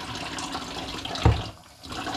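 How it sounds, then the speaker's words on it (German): Hands washed under a running kitchen tap during home cooking of spaghetti bolognese, a steady close water stream with a brief louder splash midway, then a short lull before the flow resumes. "Ich muss mir bloß halt schnell mal die Hände waschen."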